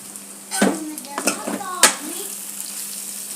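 A potato and fenugreek curry is stirred in a pan, giving a few scraping clinks of the spoon against the metal over a soft background hiss, with quiet gaps between the strokes.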